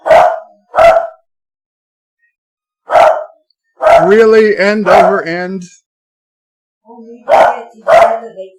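A dog barks sharply several times nearby, in short bursts separated by pauses, with a person speaking in between.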